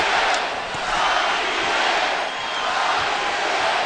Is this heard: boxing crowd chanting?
yes